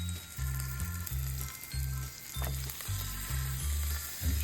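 Bread frying in a skillet beside food pushed to one side, a steady close sizzle with low pulsing bursts roughly every half second, no voices.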